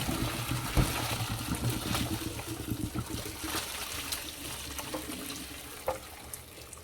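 Cooked cabbage and its water pour into a sink strainer, giving a steady rushing splash with a few louder spatters, close by and without talk.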